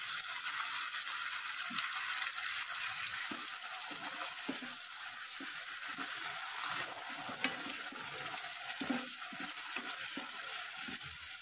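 Tomatoes frying in a pan for a Kathiyawadi spinach-potato curry, with a loud, steady close sizzle and a spoon scraping and stirring at intervals underneath.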